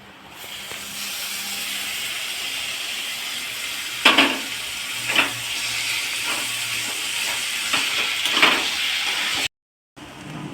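Dried fish sizzling in a pan of turmeric and salt spice masala, a steady close frying hiss with several sharper crackling bursts from stirring, then a brief cut to silence near the end.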